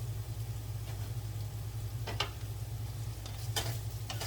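Food browning in a pan on a stovetop gives a soft, steady sizzle with a faint low hum underneath and a few brief stirring scrapes, heard close and quiet.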